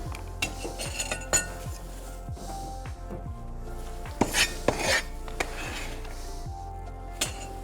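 Cut carrot pieces dropped and scraped into a mixing bowl in a kitchen, with scattered light clinks and knocks over a low steady hum, a few louder clatters coming near the middle.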